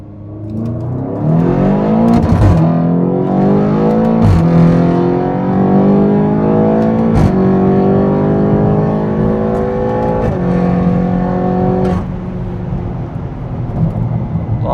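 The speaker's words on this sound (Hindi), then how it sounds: "अब हम आए अपने टेस्टिंग पैच पे, तो हम M1 से इसको टेस्ट करते हैं।" A 2017 BMW X5M, a 600 hp SUV running E30 ethanol blend fuel, accelerates hard in M1 mode, its loud engine note climbing through several gears with sharp pauses at each upshift, heard close and without talk.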